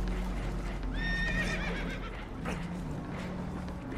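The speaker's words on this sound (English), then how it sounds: "Horses are spooked, and we're taking on" Spooked horses whinny in Red Dead Redemption 2, several rising neighs stacked together over steady low rumble and clip-clop, loud and near, no talk.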